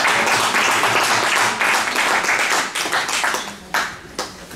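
Close, loud applause from a meeting crowd, dense clapping that holds steady and then breaks into a few scattered final claps.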